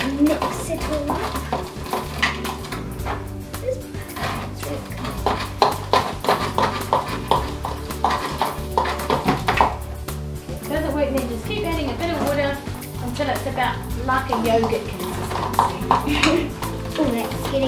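A spoon mixes puff paint in a bowl with steady clinking and scraping that repeats throughout. Talk runs over the stirring.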